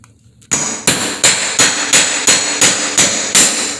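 A mallet taps laminate flooring boards into place with about nine sharp, evenly spaced blows. They are close, loud and alone, and each knock rings briefly.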